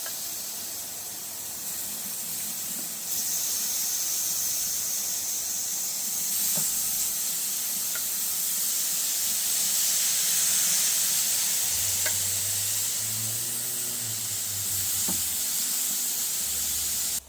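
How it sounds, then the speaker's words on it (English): Boneless marinated pork spare rib pieces sizzle on a hot Ozpig Big Pig barbecue, a steady bright hiss that runs throughout with a few low clunks and scrapes toward the end. "So we'll just give these a bit of a sizzle."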